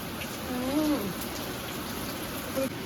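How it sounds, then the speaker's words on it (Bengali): Steady heavy rain hisses evenly throughout, with a faint voice briefly audible beneath the downpour. "প্রচুর পরিমাণে বৃষ্টি হচ্ছে"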